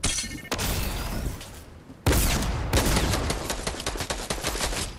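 Rapid gunfire from a shooter video game played on a PS5, dense bursts of automatic shots and booms with a short lull before a louder second volley, loud and alone with no voices.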